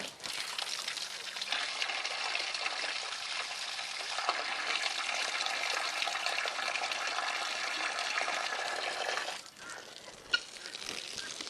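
Water gushes steadily into a goats' water container on a farm, a continuous rushing pour that briefly dips before resuming with a small clunk.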